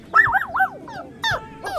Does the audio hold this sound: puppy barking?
yes